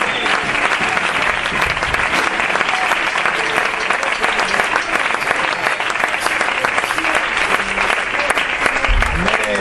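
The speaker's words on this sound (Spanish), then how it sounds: "Aplaude al Señor, que Él es bueno." A church congregation applauds in praise, dense continuous clapping from many hands filling the room loudly and evenly from start to finish, with voices faintly mixed in.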